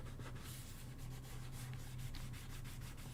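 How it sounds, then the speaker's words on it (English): Paper is burnished by hand in a craft project, a soft rhythmic rubbing of repeated strokes over a low steady hum, quiet and close with no talk. "burnishing that just a little bit so I can bring it up okay"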